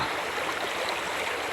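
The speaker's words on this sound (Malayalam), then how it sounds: "പുഴത വളരെ നല്ല തെളിഞ്ഞ വെള്ളമാണ് വിസ്തരിച്ച് ഒഴുകുന്നുണ്ട്" Clear water flows steadily down the Kottapuzha river, a constant broad rushing wash at close range, even and uninterrupted with no voices.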